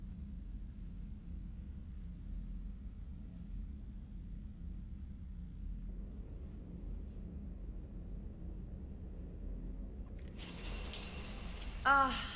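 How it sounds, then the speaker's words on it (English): A shower runs in the Mass Effect 3 video game, aboard the Normandy starship: a faint, steady low rush of water that brightens into a louder, splashier spray near the end. "I figured you'd be more interested in a shower."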